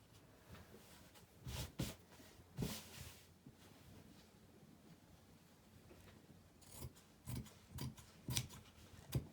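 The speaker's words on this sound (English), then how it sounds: "So probably I'm going to cut out this back piece that was originally on the shirt." Scissors snip through a corduroy shirt to cut out the back piece, with a few sharp, close cuts spaced apart and quiet rustling of fabric in between.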